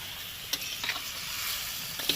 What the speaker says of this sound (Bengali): এবার কষাবো এটাকে একটু জল দিয়ে কষালে